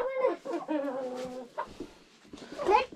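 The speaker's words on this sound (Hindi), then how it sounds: "और यहीं पे रहती है हमारी मुर्गियां भी।" Chickens cluck in a household cowshed shared with goats and cattle, several short harmonic calls in quick succession, fairly close, with no talk over them.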